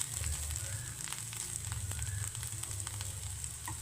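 Chilli flakes sizzle and fry in oil in a pan while a cauliflower stir-fry is cooked, making a steady close hiss with small crackles and no voices.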